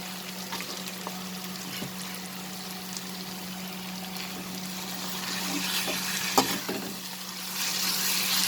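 Meat dropped into a pan of fried onions while cooking stuffed pointed gourd, a steady sizzle with scattered stirring scrapes and a brief louder clatter near the end, no talk.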